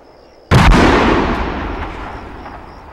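Gunfire and a heavy explosion from the military shooter Arma 3: a sudden loud blast at half a second, followed by a long rumbling decay with scattered distant shots, and no talking.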